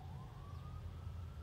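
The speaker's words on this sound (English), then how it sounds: "You guys are unfortunately hearing a siren in the background." A siren wails faintly in the distance outside a mall, one slow rising tone drifting over a steady low rumble of ambient noise.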